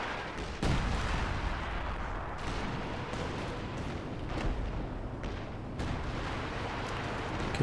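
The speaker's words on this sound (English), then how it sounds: "He's just going for an old-fashioned barrage again." Rocket artillery barrage in Company of Heroes 2, a 3v3 match: a dense, continuous roar of overlapping booms and rumbling blasts, with sharper impacts near 0.6 and 5.8 seconds, loud throughout and without speech.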